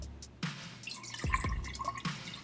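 Water is poured into a large jar to about one and a half cups, heard as faint, close splashing drips that come in a few distinct bursts.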